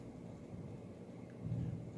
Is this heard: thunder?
yes